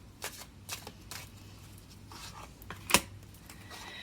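Tarot cards being riffle-shuffled in several soft, papery bursts, ending in a sharp snap of cards near the end; no one speaks.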